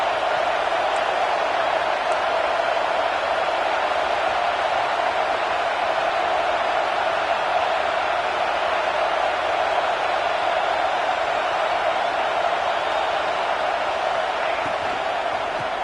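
A packed football stadium crowd roaring at an early-game college matchup, a dense steady wall of cheering that stays loud and unbroken throughout with no distinct voices.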